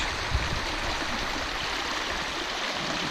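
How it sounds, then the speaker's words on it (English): Small stream flowing across a beach at Anchorage Provincial Park, a steady close rush and babble of water, constant and fairly loud with no voices. "I've hit this small stream that's coming out of the beach, crossing the beach."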